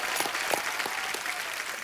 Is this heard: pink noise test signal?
no